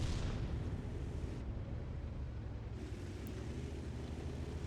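Heavy cannon boom from a Caernarvon tank in World of Tanks, a dense low rumble that fills the whole stretch and then decays slowly, with no talk over it.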